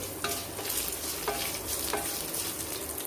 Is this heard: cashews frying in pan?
yes